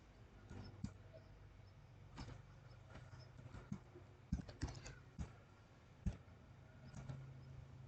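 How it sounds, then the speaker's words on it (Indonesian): Fingers tap out lines of CSS on a computer keyboard, a quiet, irregular patter of clicks with a few sharper, louder keystrokes mixed in, heard close and alone with no speech. "Terlebih dahulu saya akan mengetik margin 0 dan padding 0."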